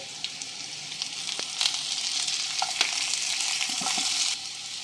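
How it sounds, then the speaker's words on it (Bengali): Boiled potatoes with mint and green chilli frying in a pan over medium flame give a steady bright sizzle, with occasional scrapes and taps of stirring, close up and continuous with no voices. "দু এক মিনিট মিডিয়াম ফ্লেমে ভেজে নেব"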